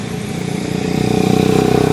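A motorcycle engine idles and revs up close, its rapid pulsing beat growing louder and steadier over a couple of seconds, with no talk over it.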